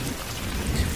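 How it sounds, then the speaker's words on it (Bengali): Heavy rain of a Kalbaishakhi nor'wester thunderstorm in a cartoon, a steady dense rushing hiss with low rumbling underneath, close and continuous with no voices. "এ হলো কালবৈশাখী ঝড়, এত সহজে থামার নয়।"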